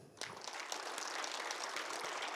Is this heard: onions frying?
no